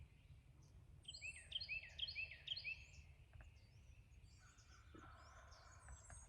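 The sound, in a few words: wild turkey gobbling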